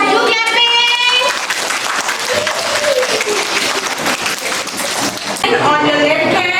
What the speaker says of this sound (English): Do clapping.